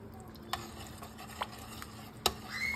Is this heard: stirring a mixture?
yes